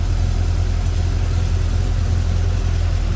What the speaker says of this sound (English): Boy, that's a smooth running engine.